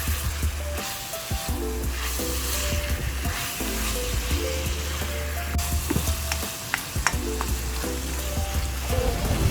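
Ground pork with green peas, carrots and potatoes is stirred in a hot pan, giving a steady, close sizzle broken by repeated scraping strokes of the spoon.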